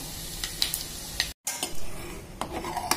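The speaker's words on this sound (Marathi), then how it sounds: "आता डाळ फोडणीला घालायचे" Sizzling and bubbling as cooked lentils are added to a hot tempering in a pan, with scraping stirs and a clink of utensil on metal, broken by a brief silent gap.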